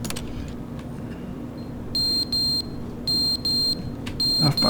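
Fire alarm in The Stanley Parable video game sounding as a series of loud, high electronic beeps in short bursts, two pairs repeating with brief gaps, over a steady low hum.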